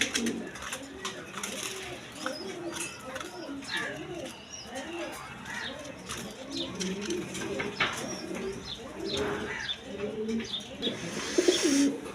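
A pair of big Sirazi Lahori pigeons coo steadily among other chirping birds, close and moderately loud, with someone talking faintly at times underneath.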